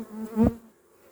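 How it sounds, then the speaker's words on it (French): Honey bees at a hive in an apiary, a steady close drone with a louder swell of buzzing midway before settling back to a low hum. "Les abeilles sont belles."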